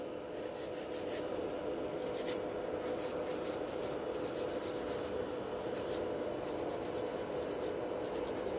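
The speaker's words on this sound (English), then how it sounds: "check the shaping so I know where to file as well, and do the buffer" Gel nail being filed and buffed into a tapered coffin shape on a nail form, giving a steady, continuous close scratchy rubbing with a faint rhythmic flutter, and no speech.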